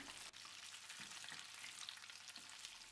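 Steady crackling sizzle of chicken bread patties frying in hot oil in a pan, close and continuous, with a few soft clinks and scrapes from turning.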